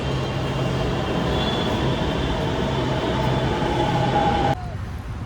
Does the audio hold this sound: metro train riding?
yes